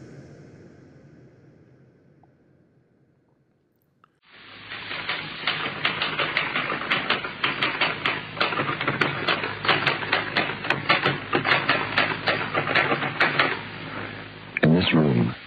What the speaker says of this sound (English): the sound of the tapping of the typewriter keys is like knuckles on wood